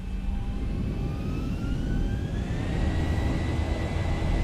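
Simulated Boeing 737-800 jet on its takeoff roll in X-Plane 11, a steady loud engine roar with a rising turbine whine climbing in pitch throughout, no voices.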